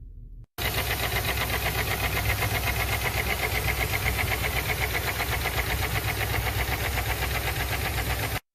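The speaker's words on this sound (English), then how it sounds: "engine has a very loud knocking sound" A car engine with a very loud knock idles close by; after a brief opening sound and a short gap it runs with steady, hard rhythmic knocking that stays loud throughout.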